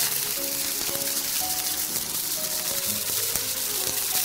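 Chicken fries in rapeseed oil in a hot wok with a constant hissing sizzle dotted with sharp crackles and pops, close and steady throughout, with no one talking.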